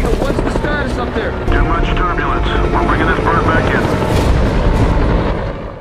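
A rescue helicopter flies through a storm, its rotor roar loud and steady throughout, mixed with rushing wind and rain noise and dense rumbling.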